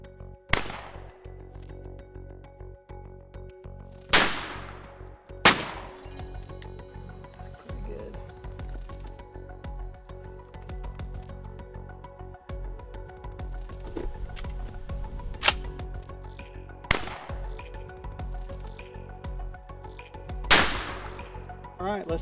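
Shotgun blasts from Boss 3 inch shells fired through a choke at a patterning target outdoors, several sharp, loud single reports spaced seconds apart, each followed by a short echoing tail, with quieter background sounds between shots.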